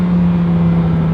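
Lamborghini Huracan Tecnica under way, a loud steady engine drone with a strong constant tone, heard close from inside the car.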